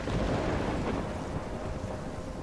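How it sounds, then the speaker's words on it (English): Video game Life is Strange thunderstorm: a dense, roaring wash of rain and wind with low rumbling thunder, loud and continuous throughout, no voices. "I'm trapped in a storm?"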